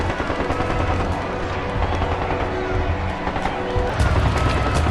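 Dense, sustained bursts of gunfire crackle and pop continuously, loud and chaotic, with heavier blasts near the end and no clear pauses, as soldiers and protesters come under fire in a city plaza.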